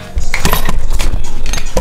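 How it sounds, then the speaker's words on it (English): A handheld camera nearly dropped and snatched back, giving a quick clatter of hard knocks and rattles, loud and close, in a few rapid bursts over under two seconds. "I barely just caught my camera."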